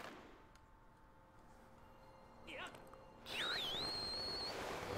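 A sharp rising and falling whistle in the video game Zelda: Skyward Sword, loud and sustained for about a second over a windy rushing background, with a brief softer whistle-like chirp just before it.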